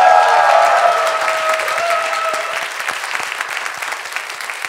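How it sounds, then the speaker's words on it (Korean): A studio audience claps steadily to welcome a guest, a renowned brain scientist, onto a Korean talk-show stage. Dense, loud applause fills the room at first, then thins slightly as it continues alone. "우리 이시영 박사님 여러분 큰 박수로 맞아주십시오."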